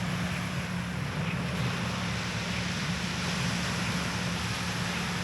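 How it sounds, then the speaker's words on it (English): Gentle ocean waves wash onto the beach at Yalong Bay, Hainan, in a steady, even roar with wind rumbling against the microphone and no voices. "I can already hear the sound of the waves, and that's just absolutely beautiful."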